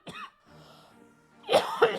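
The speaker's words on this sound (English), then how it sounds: "I am on a medication that causes me to have an awful dry cough" Dry coughing brought on by medication: a short cough near the start, then after a quiet stretch of low murmur, two harsh, loud coughs in close succession, close to the mic.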